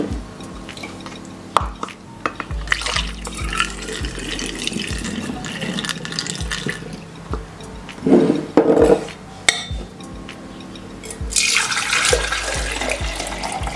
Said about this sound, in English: You can strain the liquid from the jar